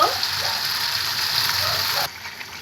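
Chicken pieces frying in spice masala in a pan make a loud, close sizzle with bubbling hiss that suddenly drops to a quieter crackle near the end.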